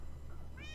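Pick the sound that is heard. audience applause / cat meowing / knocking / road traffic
cat meowing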